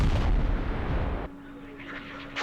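A heavy booming rumble of artillery fire in the Vietnam war game Campaign Series Vietnam, a loud sustained blast that cuts off abruptly, leaving a faint hum and quiet ambient tail.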